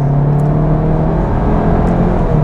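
A VW Golf GTI pulls hard out of a corner in second gear, its engine note a steady close droning rumble with a strong low tone, heard from inside the car without talk.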